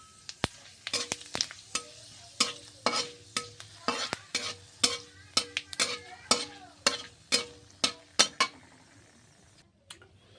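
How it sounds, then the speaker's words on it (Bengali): Fennel seeds sizzle in hot oil as a spoon stirs them, with a steady run of sharp metallic scrapes and taps against the pan over a soft frying hiss, close up with no voices. "এবার এই তেলের মধ্যে আমি মৌরি দিয়ে দেবো"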